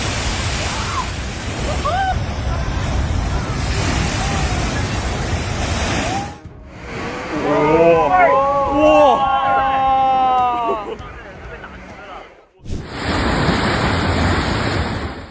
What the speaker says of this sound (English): When waves hit the rocks, you're not just hearing a sound, you're almost feeling the heartbeat of the entire ocean.